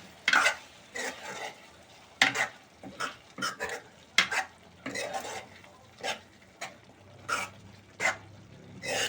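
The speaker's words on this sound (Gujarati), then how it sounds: "હવે આપણે એને હલાવી નાખશું" Boiled egg curry stirred in a pan, giving a steady run of scraping, clinking strokes of a spoon against metal, roughly a dozen bursts in a loose rhythm over a faint simmer, close and fairly loud with no talking.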